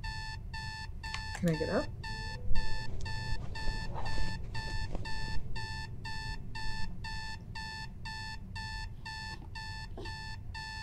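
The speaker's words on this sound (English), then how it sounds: "Oh, those alarms." An alarm clock rings in a steady repeating beep pattern, loud and close, and keeps going the whole time while a person talks over it.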